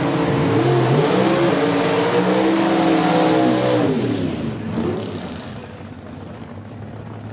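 Door slammer drag racing cars accelerating hard in a final, a loud sustained engine roar with rising harmonic tones that fades somewhat toward the end.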